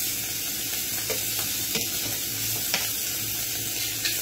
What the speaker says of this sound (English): You see how that's sizzling out there now?